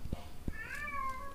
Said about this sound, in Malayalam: ഈ നശിച്ച പൂച്ച